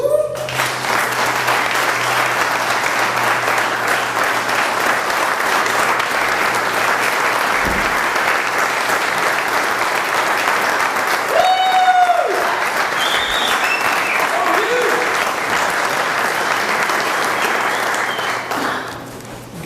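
Sustained applause from a banquet audience at a veterans' outdoors event, a dense, steady roar of many hands clapping that fills the room for about twenty seconds, loud and close, with a few faint voices and whoops within it.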